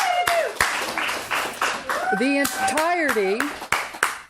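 Audience clapping at a special board meeting, a scattering of sharp hand claps mixed with a whistle-like tonal sweep and chatter in the room.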